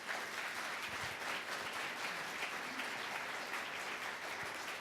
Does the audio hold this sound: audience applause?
yes